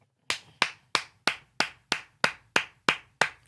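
Ten sharp hand claps in a steady, evenly spaced rhythm, close and fairly loud, with no talking around them.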